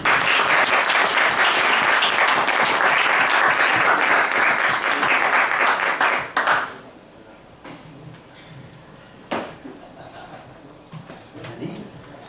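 An audience welcoming a speaker with loud, dense applause for about six seconds, then it fades into scattered claps, shuffling and a few knocks in a large room.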